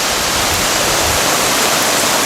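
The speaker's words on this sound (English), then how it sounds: "The raging river finding its way to the sea. The river in spate." A river in spate rushes toward the sea, a steady, close, full roar of churning floodwater that holds unbroken for the whole stretch with no voices.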